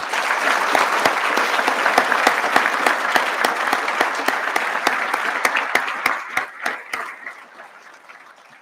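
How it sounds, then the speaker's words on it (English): An audience at the 2021 Metro Chiefs and Sheriffs Association Awards for Valor gives a round of applause to the award recipients. Sharp individual claps stand out from the dense clapping before it tapers off. "If you would please join me in giving one more round of applause to all of our award recipients today."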